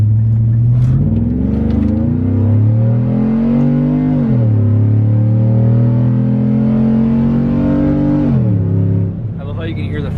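A Ranger utility vehicle engine revs loud and close, its whine climbing and dropping as it shifts hard through gears several times over the stretch.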